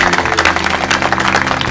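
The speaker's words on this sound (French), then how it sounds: "On applaudit très fort pour Stella" An audience at the Miss Congo pageant show applauds Stella, loud dense clapping sustained evenly through the whole moment.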